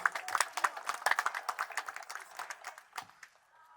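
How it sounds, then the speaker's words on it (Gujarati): An audience applauds the release of a book at a Gita Jayanti gathering held by the Seva Ashram Trust in Taiyabpura. The clapping is crisp, moderately loud and close, and it thins out toward the end. "સૌ તાળીઓથી નવાજીશું."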